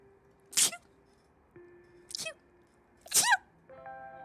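Three small, high-pitched sneezes from a video-game character, spaced about a second and a half apart, with soft game music tones between them and no talking.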